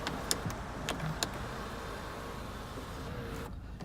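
The electric sunroof motor on a Holden Captiva whirs quietly as the glass panel slides open inside the car, with a few soft clicks and thumps along the way.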